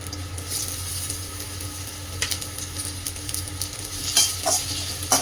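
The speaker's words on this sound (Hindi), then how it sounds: "फिर इसमें सारे बेल पेपर्स डालकर इसे थोड़ा सॉटे करेंगे।" Chopped onion and bell peppers sautéing in hot oil in a wok, a continuous close sizzle punctuated by spatula scrapes and clacks, growing busier toward the end.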